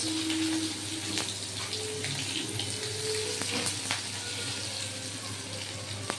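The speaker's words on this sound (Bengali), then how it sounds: "অলরেডি আমার তেল গরম হয়ে গেছে দিয়ে দিলাম পাঁচ ফোড়ন পাঁচ ফোড়নটার উপরে দিয়ে দিলাম পেঁয়াজ" Onion and panch phoron spices fry in hot oil for a prawn and ridge gourd dish, a steady close hiss and crackle with a few sharp pops throughout, no voices.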